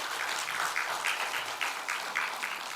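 A church congregation at a Sunday morning worship service claps for the choir in a steady, rhythmic unison beat, with the hall's reverberant claps repeating evenly with no voices over them.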